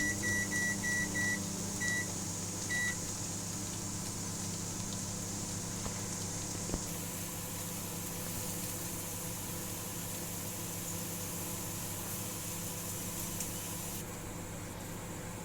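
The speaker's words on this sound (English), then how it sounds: "in normal microwave mode we will run it for 5 minutes." A household microwave oven running on normal mode with a bowl of apple cider vinegar inside, giving a steady low hum and fan drone throughout, with a few short beeps near the start.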